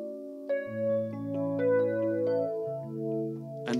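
An electric piano on its default Mark One tone plays a short, clean passage of sustained chords and single notes, bell-like and mellow, alone with no talking.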